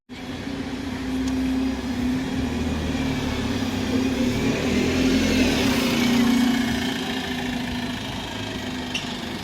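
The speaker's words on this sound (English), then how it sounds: "And here is our bus." A Stagecoach West bus in Cheltenham pulls up at a stop, its diesel engine rumbling with a steady low hum that swells a little as it draws near and settles to a close idle, with no talk.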